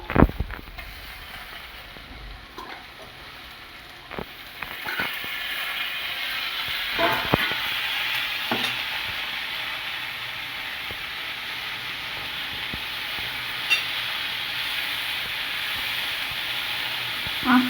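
Red amaranth greens hiss and sizzle steadily in a hot pan over low flame, a broad continuous frying noise that grows louder partway through, with occasional soft clinks and stirring sounds.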